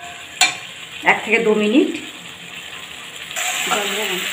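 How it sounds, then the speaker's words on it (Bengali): Potatoes being sautéed and stirred with spices in a pan for a Bengali chhanar dalna, a steady sizzle with scraping stir strokes throughout, while a person talks over the cooking. "এই আলুটা দিয়ে এই মশলার সাথে ভালো করে কষে নিতে হবে"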